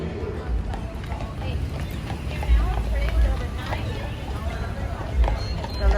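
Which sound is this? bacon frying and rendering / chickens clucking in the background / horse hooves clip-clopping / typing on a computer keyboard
horse hooves clip-clopping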